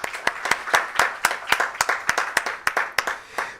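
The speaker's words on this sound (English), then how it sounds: "Let's have a big round of applause for him." Audience applause closing a valedictory session of a physics workshop on Standard Model effective field theories, heard as close, loud claps in an irregular rhythm across the whole clip, with no talking.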